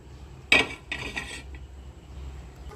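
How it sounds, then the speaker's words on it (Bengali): A metal flat griddle pan, a tawa, lands on a gas stove with a sharp close clank, followed by a second rattling scrape as it settles, then quiet kitchen background. "এবার একটা চাটু বসাবো"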